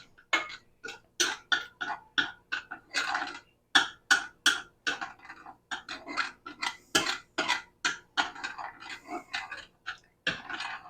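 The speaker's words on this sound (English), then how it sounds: "I'm just sort of stirring around, keeping it moving around so it don't burn in the bottom of our pot here" A spoon stirs butter melting in a pot for no-bake chocolate peanut butter oatmeal cookies. Quick, regular scraping strokes repeat steadily, close and fairly distinct, with no talking.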